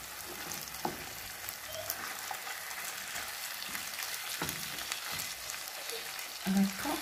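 Red beans and canned tomato sizzle in a pot while being stirred, a continuous frying hiss with occasional scrapes and a brief knock near the end.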